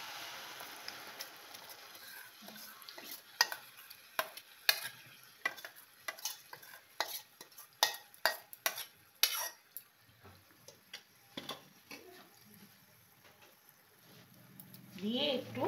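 Carrot paste stirred in ghee in a pan: a soft sizzle under repeated spoon scrapes and clinks against the pan, fairly quiet and close, easing off near the end before a brief voice.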